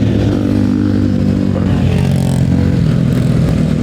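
A group of about ten motorcycles, KTM bikes among them including a Duke 125, rides together on a country road, giving a steady, loud engine drone with a low rumble and no pauses.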